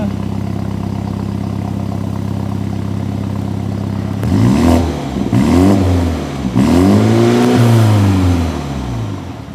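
A Mini GP 2020 engine idles low and steady, then revs up in three or four sharp blips that rise and fall, loud and close, with no talk.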